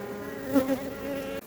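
Honeybees buzz at a beehive, a close, dense drone with a brief louder swell as a bee passes near, heard alone for a moment.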